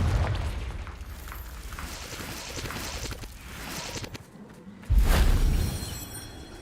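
A Confringo explosive spell goes off in Hogwarts Legacy, a muffled rumbling blast followed by a sharper booming burst near the end, set against low battle ambience.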